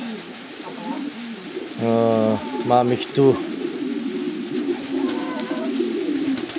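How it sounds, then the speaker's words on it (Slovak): Modena pigeons coo in a loft, several deep rolling coos rising out of a steady murmur of other birds, while someone speaks briefly. "Modena holub, taub,"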